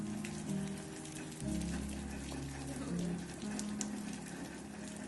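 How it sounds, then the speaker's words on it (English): Heavy storm rain pours down outside a home, a faint, steady hiss of drops pattering on surfaces with a low rumble beneath. "The rain began to pour down"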